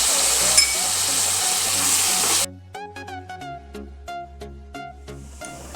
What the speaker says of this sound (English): Now add about 2 tablespoons of tamarind juice.